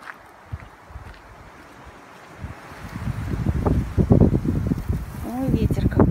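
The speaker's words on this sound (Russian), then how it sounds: "Ой, ветер какой." Gusting wind rumbles and roars against the microphone, building in strength, while a person talks over it.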